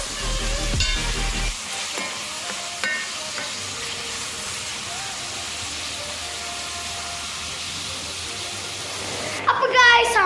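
Chicken curry sizzles in a pan as it is stirred, a steady close frying hiss with scraping stirs near the start and end, and a voice speaks briefly.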